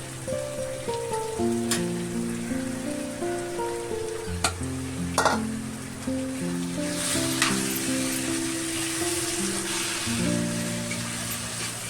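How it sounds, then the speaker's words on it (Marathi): Paneer stirred and fried with onion-tomato masala for paneer bhurji, a soft steady sizzle with a few sharp spatula knocks, mostly buried under melodic background music. "पनीर छान हलवून घेऊ"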